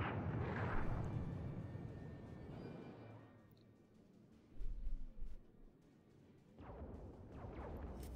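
Warship guns fire a salvo in the naval game World of Warships. A few deep booms with rumbling tails sound at a moderate distance against quiet background noise.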